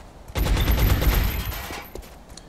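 Rapid burst of suppressing gunfire in XCOM: Long War, a dense rattling fusillade that starts abruptly, stays loud for about a second, then trails off into scattered, fading shots.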